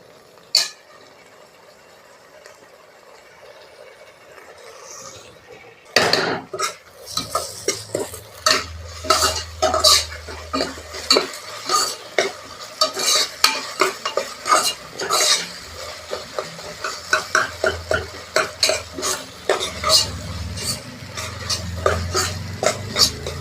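Ginger garlic paste fries with onion and tomato in a pan, stirred by a utensil that scrapes and taps the metal in quick, repeated strokes over a steady sizzle after a quiet start.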